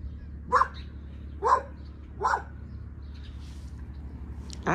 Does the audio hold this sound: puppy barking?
yes